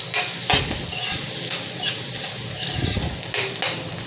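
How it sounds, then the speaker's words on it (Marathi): Chopped onion fries in a pan for a radish vegetable dish, sizzling steadily up close while a utensil stirs and scrapes with several sharp knocks against the pan. "ब्राऊन रंगावर आपल्याला कांदा भाजायचा आहे"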